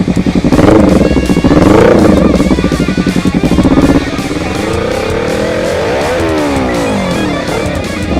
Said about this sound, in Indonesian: Oke, knalpotnya suaranya ngebacot sekali.